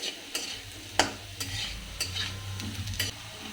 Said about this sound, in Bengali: ফার্স্টে কড়াইয়ে তেল দিয়ে আমি আলু আর পেঁয়াজটা ভেজে নিচ্ছি